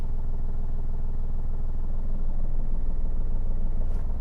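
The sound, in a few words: car engine at clutch biting point, handbrake on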